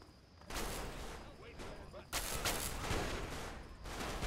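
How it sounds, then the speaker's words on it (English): Gunfire in Fallout 3 aimed at the giant robot Liberty Prime, a dense, loud fusillade of rapid shots that surges in after a quiet start, with a second heavy burst midway. "They're just shooting Liberty Prime"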